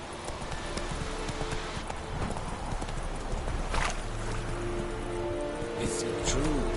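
Horse hoofbeats in the video game Witcher 3, a steady galloping clip-clop under a constant wash of outdoor background, with a voice speaking briefly near the end.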